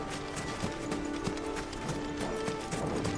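A chocobo running in Final Fantasy XVI, with rapid, steady clip-clop footfalls close by over a continuous game ambience, without talk.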